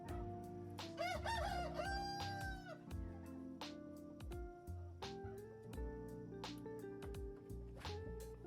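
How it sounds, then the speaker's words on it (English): Chickens cluck and squawk nearby in a summer garden in Pennsylvania, with a rooster crowing early on, amid soft rustling and scattered pecking sounds. "All the chickens coming to hang out to say hello."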